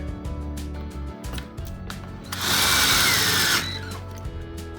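A power drill whirs loudly for about a second, preceded and followed by quieter mechanical handling noises as the drill is reassembled, and a low hum.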